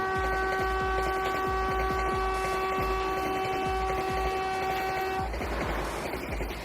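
Indian express passenger train hauled by a WAP-5 electric locomotive rated for 180 km/h: a loud, sustained multi-tone horn blares for about five seconds over steady rumbling and rhythmic wheel clatter, then gives way to a rushing roar.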